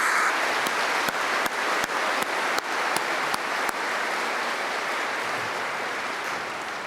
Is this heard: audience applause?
yes